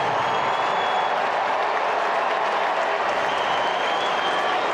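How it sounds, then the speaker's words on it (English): Blue Jays fans in a ballpark crowd welcome back third baseman Bo Bichette with loud, sustained applause and cheering that fills the whole moment as a dense, steady wash of claps. "And there's a few boos in there."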